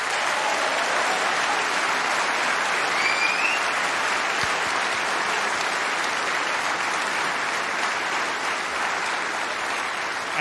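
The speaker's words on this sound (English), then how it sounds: "Give yourselves a round of applause, please." Sustained applause from the audience at the BAFTA Games Awards 2024 ceremony, a dense, steady wash of many hands clapping at even loudness throughout, with no speech over it.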